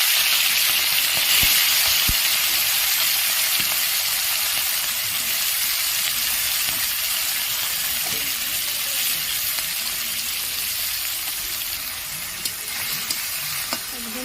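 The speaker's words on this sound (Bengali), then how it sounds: "আমি এবারে চিংড়ি মাছগুলো ভেজে নেব।" Prawns fry in hot mustard oil, giving a loud, continuous close-up sizzle with a broad hissing wash and occasional crackles and stirring clicks, gradually easing slightly toward the end.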